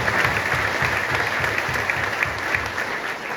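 Steady, dense applause from a town hall crowd in Warren County, many hands clapping evenly and continuously at moderate loudness with little talk over it.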